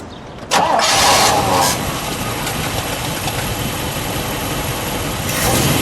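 The engine of a 1956 Chevrolet Corvette cranks and catches with a loud burst, then settles into a steady, smooth idle close by.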